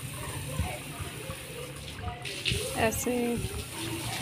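Water runs steadily from a tap while washing at home, with splashes and clatter as things are rinsed, and someone speaks briefly over it.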